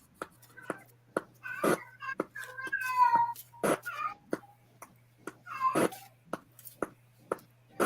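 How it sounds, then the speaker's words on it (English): A domestic cat meows repeatedly and close by, with short yowls spread through the stretch and quiet gaps between them. Faint background noise and tapping sounds come and go. "My cat is being utterly annoying today."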